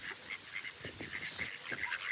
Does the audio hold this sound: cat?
no